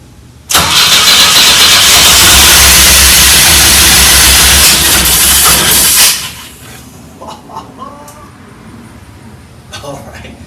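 A 1984 Pontiac Fiero engine that has sat for 30 years roars loudly into life after a brief crank and runs hard for about six seconds, then cuts out, leaving faint rattles and scattered talk.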